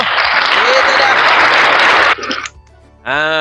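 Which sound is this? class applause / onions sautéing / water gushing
class applause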